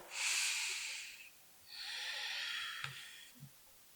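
Two long, quiet breaths during a yoga forward fold, each a soft hissing exhale lasting about a second, with a faint snort-like catch near the end.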